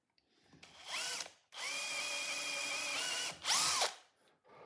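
Drill driving 1.5 inch lag bolts into a mobile base for a 70-year-old drill press, with a short whirring burst, a long steady run, then another loud burst, close and loud with no talking.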